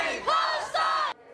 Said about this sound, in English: Destiny Church head Brian Tamaki's supporters, who performed a rousing haka following his speech